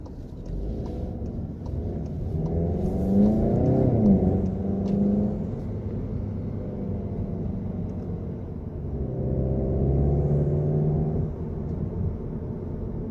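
A 2019 VW Golf GTI Rabbit accelerating hard from a launch-control start, its engine note rising in two rumbling revving pulls inside the cabin.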